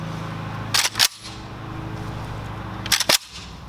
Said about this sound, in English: use your foot on the charging handle right here and basically bring your foot down on it